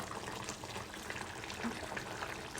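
Bottle gourd and egg curry simmering in a pot, a steady close bubbling and sizzling hiss running evenly throughout with no talk.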